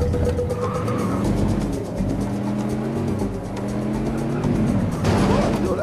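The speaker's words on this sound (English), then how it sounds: "Yo, I brought the car around" A car pulling up in the video game Scarface: The World Is Yours, its engine droning and shifting pitch over a few seconds, loud and near, with game background noise.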